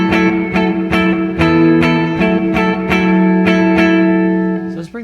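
A clean electric guitar through a Caline CP-26 Snakebite reverb pedal, mix turned up, strums a repeated chord about eight times, each strum ringing into a long, washy reverb tail that keeps the sound swelling.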